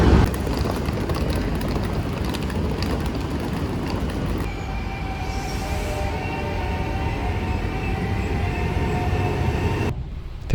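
An Italian passenger train runs on rails near the Cinque Terre with a continuous rumbling roar, and a thinner whine appears partway through. The sound stays steady and close throughout with no talking.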